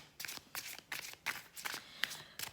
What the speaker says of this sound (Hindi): मैं इसके साथ क्लैरिफिकेशन के लिए भी कार्ड्स ड्रॉ करूँगी।